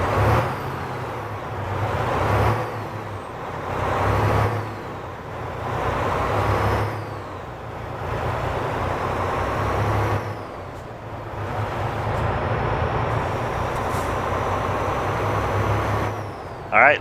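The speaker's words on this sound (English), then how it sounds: "You hear the motor rev up and then it goes just like a real truck" A truck engine in American Truck Simulator revs up and pulls away in repeated swells, a loud, deep rumble rising and falling through gear changes, with air brake and road noise around it.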